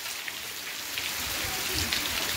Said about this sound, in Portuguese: Tá aí, pessoal, uma chuva muito boa.